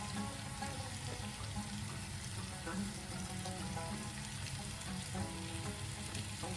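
Onions tipped into a pan of searing lamb for a tajine, giving a steady, close frying sizzle that holds evenly throughout, with a faint voice underneath.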